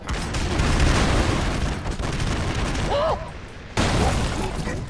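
Chaotic run-and-gun action in the video game Broforce, with dense, continuous bursts of gunfire and explosions forming a loud wall of noise that briefly drops out and then slams back in, with a voice briefly in the mix.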